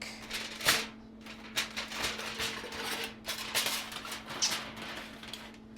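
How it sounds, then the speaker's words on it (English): Aluminum foil peeled and crinkled off an oven dish after an hour of baking at 375, a series of close, sharp rustling crackles in irregular bursts over a faint steady hum, with no talking. "Sorry about the tinfoil noise, aluminum foil noise."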